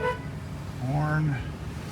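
A 2018 Ford F350 crew cab XLT pickup gives a single steady horn honk of about half a second, loud and close, with a slight pitch sag as it cuts off.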